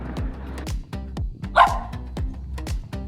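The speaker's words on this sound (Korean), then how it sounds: "짖지마." A dog at a seaside cafe near Homigot in Pohang barks in a rapid, even series of about a dozen loud, close yaps, with one higher yelp partway through.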